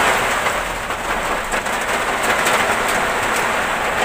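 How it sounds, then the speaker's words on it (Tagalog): Heavy rain pours steadily, a dense, constant hiss with no pauses or voices. "Patuloy yung ulan."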